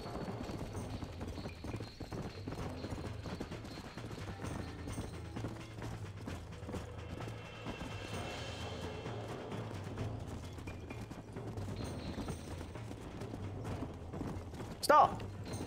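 Hooves of horses running in Red Dead Redemption, a busy rhythmic clatter with creaking and mechanical rattles over a low background bed, and a brief sharp burst near the end.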